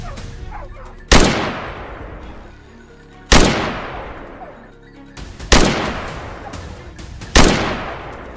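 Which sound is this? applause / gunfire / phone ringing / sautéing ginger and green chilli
gunfire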